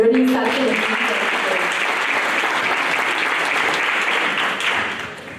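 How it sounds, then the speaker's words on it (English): An audience at a stroke awareness coffee talk claps together in a warm, sustained round of applause. Brief speech opens the clapping, which then continues dense and even before tapering slightly. "please give yourselves a round of applause for learning something."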